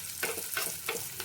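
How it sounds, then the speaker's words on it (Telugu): Mustard seeds, cumin, chillies and chopped onion crackle in hot oil during a tempering for rasam, with a steady sizzle and bursts of spluttering about every third of a second, close and fairly loud. "ఆవాలు, జీలకర్ర వేగిన తరువాత ఇలా చిటపటలు ఆడుతుంది కదా"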